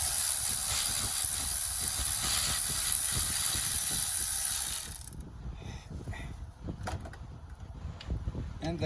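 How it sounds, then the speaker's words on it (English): A small hand ratchet works loose a starter bolt on a 2004 Jeep Rubicon with the 4.0 engine. A broad hiss gives way to a run of close, sharp mechanical clicks. "I'll use my little ratchet."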